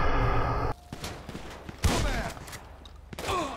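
Gunfire in the GTA V game: sharp bursts of shots from a firefight, loud and close, arriving in clustered volleys with short gaps between them.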